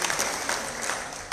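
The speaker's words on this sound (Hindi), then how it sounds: "ताली बजा दीजिए।" An audience at a Hamara Parivar Karyakram event claps together, a brief, moderately loud patter of applause that carries steadily for about a second.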